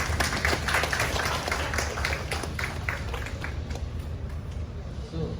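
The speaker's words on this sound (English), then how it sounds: "A round of applause for Dr." An audience at a medical case conference on a boy with hypersplenism claps for a presenting doctor. The applause is steady and fairly faint, running for about five seconds, with some talk underneath.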